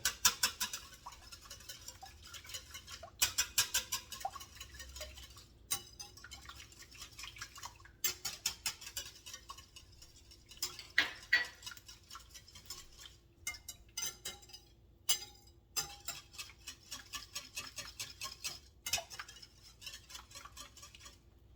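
A single egg whisked in a bowl for coco bread: quiet, rapid clinking and tapping of a utensil against the bowl in uneven bursts, close but soft, with short pauses.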